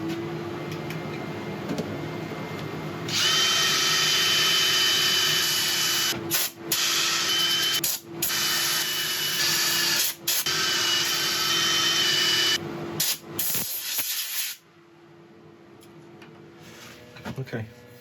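Power sanding on a mushroom burl woodturning piece, a loud steady whirring that runs for several seconds with brief stops and restarts, then fades into quiet.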